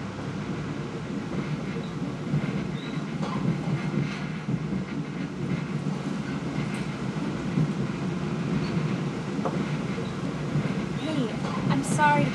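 A passenger train rides the rails near Metuchen, giving a steady, close rumble with faint rhythmic clatter that runs unbroken throughout.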